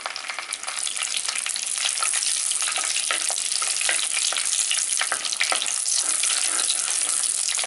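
Dried red chillies fry in hot oil in a pan for a village-style tamarind curry tempering, giving a steady, close, loud crackling sizzle throughout with no talk.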